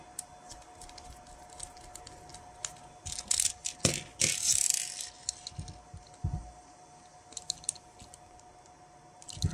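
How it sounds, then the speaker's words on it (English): A terminal screw being driven down tight inside a broken extension lead plug during a repair, giving a run of small close clicks and ratchety scraping bursts with quiet gaps between them. "so pop him in and screw him down nice and tight."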